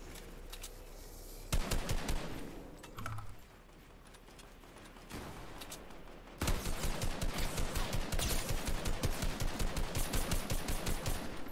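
Rapid bursts of gunfire from a shooter video game, with short volleys early on and then a long, steady rattle of automatic fire over the last five seconds, loud and close.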